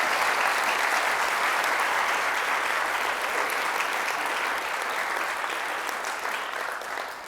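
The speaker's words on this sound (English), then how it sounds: "I'd like everybody to just give a round of applause to our panelists here this morning." Conference audience applauding panelists at an urban innovation morning panel, a sustained even wash of many hands clapping that holds steady and eases slightly toward the end.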